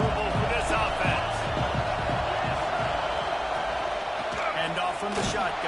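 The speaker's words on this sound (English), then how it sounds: "This crowd trying to make life miserable for this offense." A loud, steady roar from a college football stadium crowd during an OSU vs Iowa game, filling the whole stretch with cheering and din, with a commentator talking over it.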